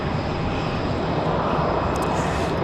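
Frontier airliner departing Raleigh-Durham International for LaGuardia, a dense, steady jet engine roar filling the short span at close range with no talk.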